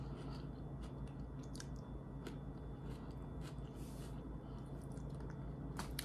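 Onions being eaten close to the mic, with soft irregular chewing and crunchy bites scattered over about six seconds; no talking.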